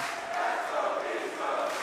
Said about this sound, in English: what the crowd is chanting